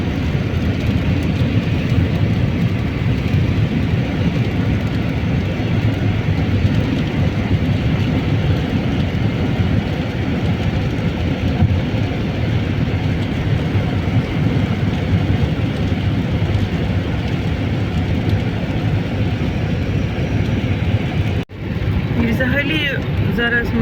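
Steady, loud road rumble from inside a moving vehicle traveling through Polish villages and fields, continuous for the whole stretch with a brief dropout near the end.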